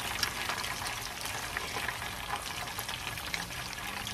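Shrimp spring rolls deep-fry in a pan of hot oil, making a steady, close crackling sizzle with small pops throughout and no talking.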